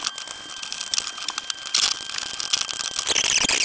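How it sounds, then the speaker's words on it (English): Close, crisp clicking of a ratchet wrench tightening bolts on a Corvette ATI Super Damper, rapid pawl ticks that grow busier and louder toward the end. "So I'll tighten all these down. I'll show you what it looks like getting them torqued down in a second."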